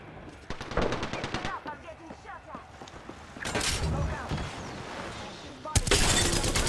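In the video game Apex Legends, rapid machine-gun style fire rattles in loud close bursts, mixed with more distant shots, impacts and movement, while a player talks over the action.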